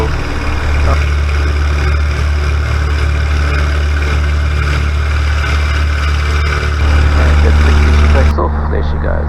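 A light aircraft engine drones loud and steady during a takeoff run at Springbok, with a voice talking over the engine noise.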